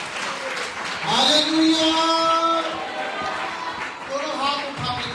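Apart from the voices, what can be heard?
congregation applauding in church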